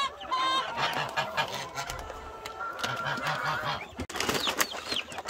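Black Araucana chickens on a Korean poultry farm, in a busy flock with repeated low clucks and honking calls overlapping near and far, plus higher chirps of chicks, continuous throughout.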